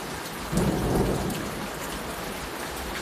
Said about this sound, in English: A little bit of thunder.